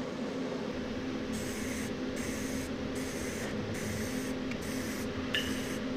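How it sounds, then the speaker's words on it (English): Aerosol can spraying coating onto welded metal letters, a steady hiss running throughout with brief rhythmic breaks as the nozzle is pressed and released. "A little spray on both sides."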